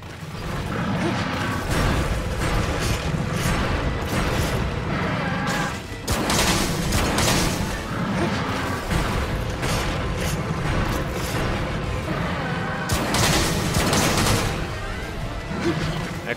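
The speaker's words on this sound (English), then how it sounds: "Excellent shooting." Gunfire from pierce ammo in Monster Hunter 3 Ultimate, a dense stream of loud repeated shots and impacts with clattering mechanical sounds, running steadily throughout with bursts near the middle and end.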